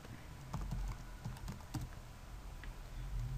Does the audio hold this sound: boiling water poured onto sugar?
no